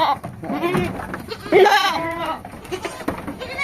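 Red-headed goats bleating at a livestock sale, one loud, wavering bleat rising clearly over a noisy background of other animals and faint voices.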